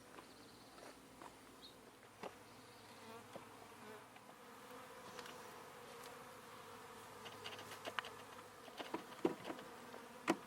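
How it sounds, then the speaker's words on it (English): Honey bees being placed into a hive alongside their queen make a faint, steady buzzing drone. Soft knocks and rustles of handling rise toward the end. "We're about to dump the rest of the bees in there with her."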